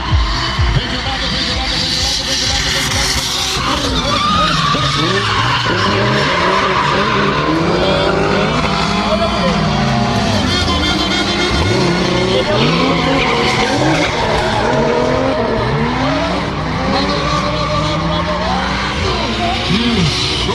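Drift cars at a drift show slide sideways, their tires screeching in long wavering squeals over roaring engines, loud and continuous, with a commentator talking over them throughout.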